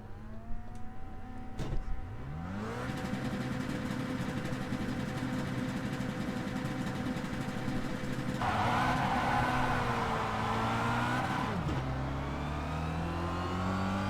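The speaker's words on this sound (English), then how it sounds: "A lot of wheels spin off to start, but we'll still get a good drive off the line." A Kia Cup race car at the race start at Imola, heard from inside: the engine idles, then revs up with rising pitch, holds at high revs through upshifts, and surges louder before easing off.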